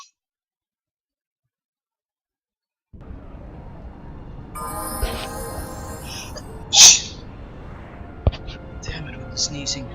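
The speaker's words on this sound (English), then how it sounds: "Damn it with the sneezing." A single sharp sneeze bursts out mid-clip in a Star Wars Knights of the Old Republic II video game scene, set against quiet ambience with soft whispered voices and small clicks after an opening of silence.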